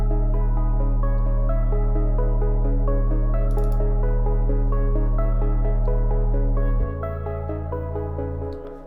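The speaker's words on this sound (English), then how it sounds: "So it's pretty simple bass line." A simple low bass line in Ableton Live holds a deep steady tone under a busier melodic part, then drops lower near the end before fading, with no talking.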